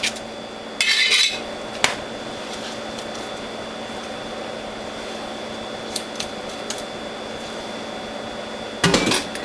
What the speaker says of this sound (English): clean my grid holder, the cutter, and the feed tube